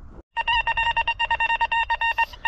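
A metal detector sounds over buried copper scrap during a treasure hunt behind old houses. It gives a rapid run of bright electronic beeps, about a dozen pulses in a steady stuttering rhythm, loud and close, with no talking.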